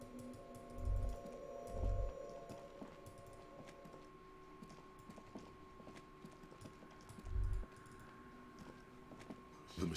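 Keys clack sparsely on a machine keyboard in Disco Elysium, scattered light taps over a faint electronic hum, broken by a few dull low thumps.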